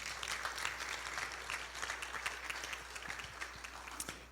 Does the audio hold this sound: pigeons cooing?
no